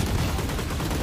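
Rapid gunfire in the video game Valorant, a dense burst of sharp cracks packed into about a second, loud and close, with no talking.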